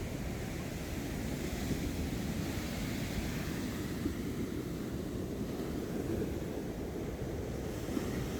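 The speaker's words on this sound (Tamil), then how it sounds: "இப்போ வந்து நான் ஆரதீவு கடற்கரைக்கு வந்துட்டேன்" Sea waves and wind on Kalmunai beach in Ampara, a coastline suffering erosion, form a steady, loud, continuous roar of surf and gusting air that stays even throughout with no voices.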